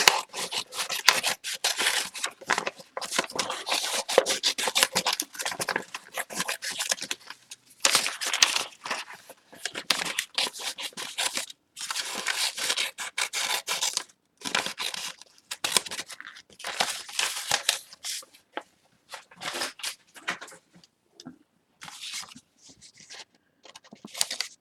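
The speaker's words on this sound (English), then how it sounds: "Scissors are getting stuck on the paper." Scissors snip and crunch through paper while cutting out a mermaid figure with fairy wings, a dense run of close, rapid cuts with brief pauses, slowing toward the end.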